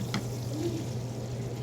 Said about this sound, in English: A little sizzling from the margarine.